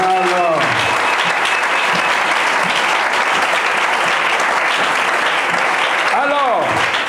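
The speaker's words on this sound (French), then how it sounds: "On acclame Jésus." A church congregation applauds loudly and steadily throughout, a dense sustained wash of clapping with a few voices calling out at the start and end.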